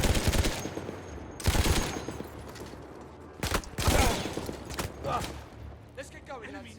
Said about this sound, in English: Nice shot, Bishop.